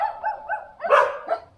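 Dogs in Portugal barking and yipping close by, a short burst of a few rising barks followed by a louder, rougher yelp, with no talking.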